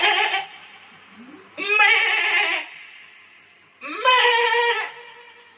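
A goat gives three loud, drawn-out bleats close by, each a wavering nasal cry separated by short quiet gaps.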